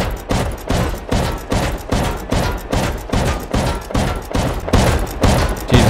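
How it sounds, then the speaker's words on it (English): A shotgun trap in the video game Rust firing repeatedly, a loud, rapid, evenly spaced string of blasts that continues through the whole stretch, close and dominant. "There's a shotgun trap. We can bait it."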